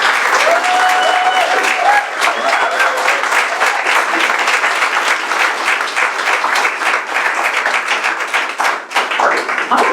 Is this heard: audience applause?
yes